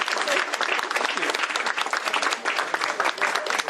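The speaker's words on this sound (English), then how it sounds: "Round of applause, everybody." Loud, dense applause from an audience at a governor's bill signing ceremony, continuous clapping filling the whole moment with a faint murmur of the crowd underneath.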